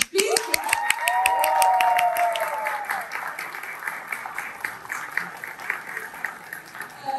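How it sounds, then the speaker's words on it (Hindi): A small group claps rapidly on request during a day out in Munich, Germany, with voices cheering over the first few seconds before the clapping thins into scattered, uneven claps. "आप बहुत ही तेजी से तालियां बजा दें"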